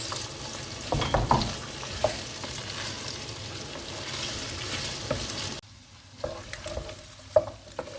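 Garlic and red pepper frying in a pot for pilau, a steady close sizzle with stirring scrapes and clinks, quieting briefly near the end before a few more utensil knocks.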